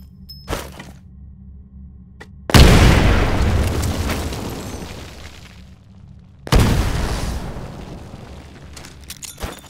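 Two heavy grenade blasts in the shooter Titanfall, each a sudden loud boom with debris that decays over a few seconds, spaced about four seconds apart, with faint thuds and clicks before and between.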